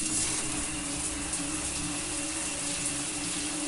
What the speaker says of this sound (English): The shower turned on in the shared bathroom.